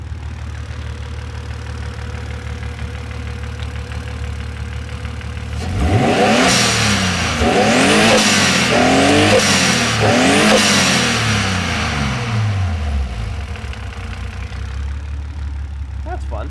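A car engine with a small T3 turbo idles steadily, then revs hard at full throttle in several rising and falling sweeps, loud and close, before settling back to idle; a voice speaks briefly.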